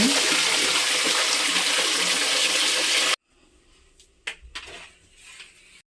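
Tap water gushes loudly and steadily into a bucket for mopping the floor, then stops abruptly, leaving faint clinks and handling noises in a quiet room.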